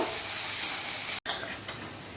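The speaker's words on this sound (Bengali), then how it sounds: "পেঁয়াজটা লাল করে ভেজে নেব।" Chopped onions fry in a pan with cardamom and bay leaf, giving a loud, dense hiss and sizzle broken by a brief cutout and a stirring scrape partway through.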